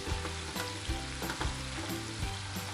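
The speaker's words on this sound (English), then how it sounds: "Now we can add in our mushroom because they need some time to cook too." Mushrooms frying in a pan while making broccoli beef, a dense continuous sizzle with repeated clinks and scrapes of stirring, close and fairly quiet, no voices.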